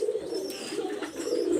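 Pigeons, including Teddy Golden Kamagar birds and their babies, coo steadily in a low, continuous warble, close and fairly loud, with no talk over it.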